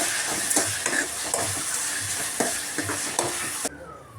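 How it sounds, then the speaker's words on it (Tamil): Chutney bubbles and sizzles steadily in a pan up close, with soft scraping and stirring taps over the hiss before it drops away near the end. "பாருங்கள் நல்லா கொதிக்குது"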